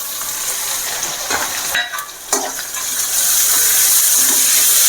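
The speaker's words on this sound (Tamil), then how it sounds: "தக்காளியும் நல்லா வதங்கிட்டு இருக்கு" Steady, close sizzling of onion and tomato sautéing in a pan, with a few stirring scrapes midway and the hiss growing louder toward the end.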